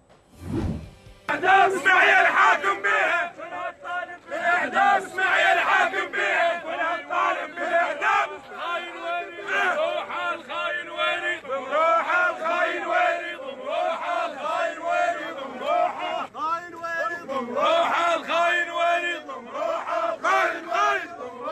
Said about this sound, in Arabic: نتابع جانبا من هتافات ذوي المغدور طالبوا من خلالها بإعدام القاتل